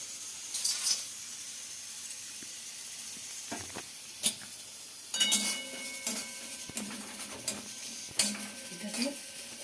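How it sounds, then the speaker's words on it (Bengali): Cardamom pods, cinnamon pieces and a torn bay leaf fry gently in a kadai over very low heat, with a faint hiss broken by scattered metallic clinks and scrapes of utensils and a few brief pauses. "এবার আমি এগুলোকে কড়াইতে দিয়ে হালকা আঁচে একটু ভেজে নেব।"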